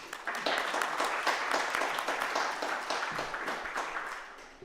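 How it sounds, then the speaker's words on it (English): An audience claps steadily for a few seconds, a dense patter of many hands that tapers off toward the end. "Can we give a round of applause, please?"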